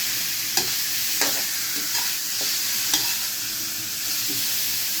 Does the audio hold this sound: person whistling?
no